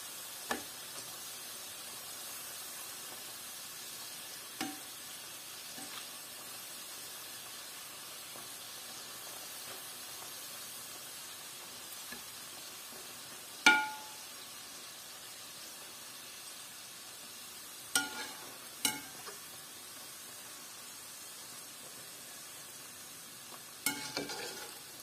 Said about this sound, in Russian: Он жарится очень быстро.